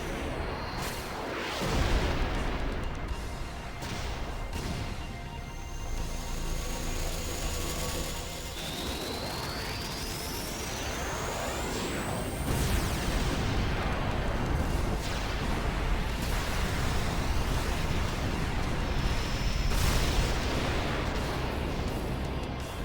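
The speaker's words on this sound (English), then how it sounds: "now he's gonna use his charge powered cannon, and Bahamut's gonna die." A charged particle cannon fires during a boss attack in the Final Fantasy X HD Remaster, producing a long, loud, roaring energy blast with rising sweeping tones and rumbling booms that fill the whole stretch.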